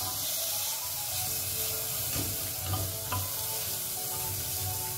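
Rice with green chillies sizzles and fries in a cooker while a spoon stirs and scrapes through it, a steady close crackle with a few louder scrapes, no talking.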